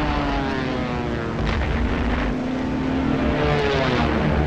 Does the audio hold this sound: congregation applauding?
no